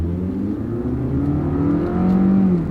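A car engine revs hard under sustained acceleration in manual mode, a loud, steady mechanical drone with rising and shifting pitch throughout, no voices.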